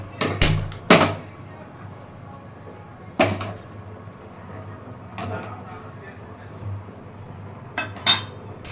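A wok is set onto a stove for cooking masoor dal, with a few sharp metallic clanks and scrapes spaced out between long quiet stretches of faint kitchen background.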